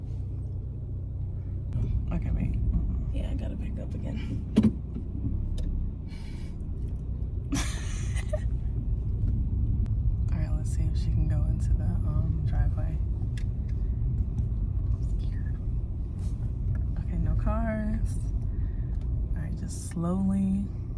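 A car on the road gives a steady low engine and tyre rumble throughout, with people talking inside the cabin over the continuous drone and a few faint clicks and knocks.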